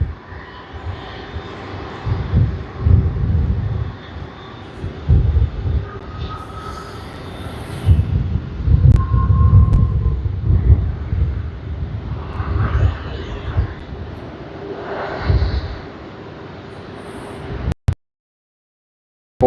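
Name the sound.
Qantas QF 733 Boeing 737-800 landing at Sydney Airport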